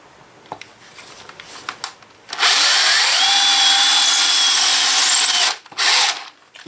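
A power drill on normal drill mode, not hammer, whirs loudly into a soft breeze block wall for about three seconds, its pitch steady, followed by a short second burst and scattered handling clatter.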